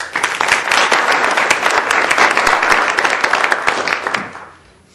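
A conference audience bursts into sustained applause for a speaker being welcomed, many hands clapping densely for about four seconds before fading out.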